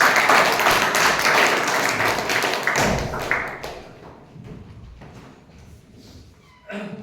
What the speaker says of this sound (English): Ladies and gentlemen, with a huge round of applause, please welcome Toastmaster Anurag.